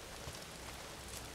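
Steady rain falls in the video game Days Gone, a soft even hiss of drops on surfaces that holds through the moment without a break.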